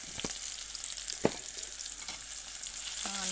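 Onions frying in a pan with salt make a bright, constant hissing sizzle, close and fairly loud. Two brief knocks of a spoon sound early on, and a faint tonal hum enters at the very end.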